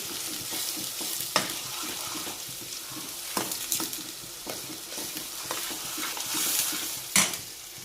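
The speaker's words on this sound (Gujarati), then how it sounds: "ટમેટા બધી ગ્રેવી છે ને પાકી જાય એટલે તેલ છૂટું પડી જાય એટલે આપણે એમાં નાખી દેવાનું સુરણ બાફેલું છે" Boiled elephant yam is tipped into a tomato gravy frying in oil, giving a steady close sizzle with spoon stirring, clinks against the pot and a few sharper scrapes and knocks.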